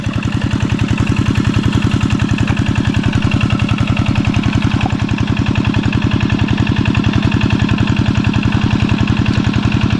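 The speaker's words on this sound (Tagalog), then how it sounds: "Pagpasensya nyo po, maingay yung motor." A noisy motor engine runs steadily and loud throughout, a rough, rapidly pulsing drone with no pauses and no one talking.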